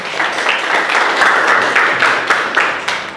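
A classroom group applauds a student named Dela, steady clapping of several hands lasting a few seconds, fairly loud and close.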